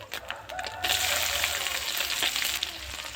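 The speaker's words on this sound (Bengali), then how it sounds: "এবার পেঁয়াজ কুচিটা আমি হালকা করে একটু ভেজে নেব" Chopped onions frying in hot oil for an omelette-free fish-head cabbage curry, a steady loud sizzle that swells as the onions hit the pan, with no talking.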